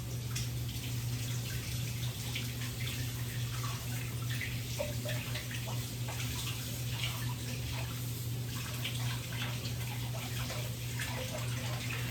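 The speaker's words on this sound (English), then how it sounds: "I'm gonna wash my hands" Hands are washed under a running kitchen tap, a continuous steady rush of water with light splashing and dripping, close and unbroken, with no talking.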